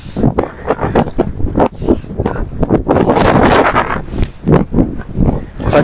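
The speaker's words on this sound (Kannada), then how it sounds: "ಸಖತ್ ಗಾಳಿ" Strong wind buffets the microphone on a hilltop near a temple in Hassan, a loud rough rumble in gusts, with people talking throughout.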